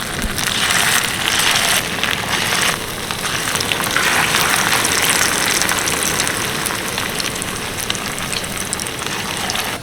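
Pakoras shaped from leftover cooked rice fry in hot oil in a flat pan, a loud, dense and continuous crackling sizzle that barely changes throughout.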